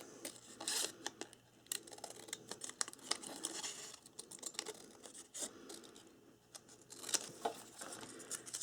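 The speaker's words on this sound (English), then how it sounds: "So I'm just going to take my scissors." Scissors snip and rustle through paper for a handmade Christmas card book, a quiet, close run of irregular crisp cuts and crinkles with no talking.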